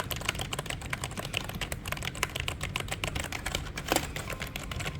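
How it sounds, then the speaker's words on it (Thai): Fast, steady typing on a black Logitech MK345 wireless keyboard, with dense clicky keystrokes close to the microphone and a slightly louder cluster near the end. "เมาส์แต่ละประเภทแต่ละยี่ห้อ คีย์บอร์ดนะครับ เสียงจะไม่เหมือนกัน"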